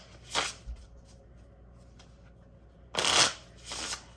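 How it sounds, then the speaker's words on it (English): A deck of playing cards is reshuffled, with two bursts of riffling, one short and one longer after a quiet pause, fairly close and with no talking. "I'm going to brand new reshuffle my deck of cards"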